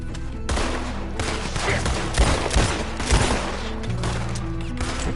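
Gunfire in the Western video game Red Dead Redemption 2: a sustained burst of rapid, loud shots and cracks over a low musical score, with heavier blasts around the middle and no talk.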